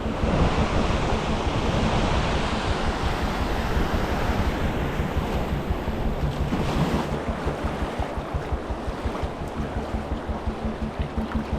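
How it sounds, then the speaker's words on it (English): Rushing water from river rapids in the Yukon roars steadily and loudly throughout, a dense turbulent wash with gusty wind buffeting the microphone. "here's the first set of rapids, and it looks like there could be a big ledge there"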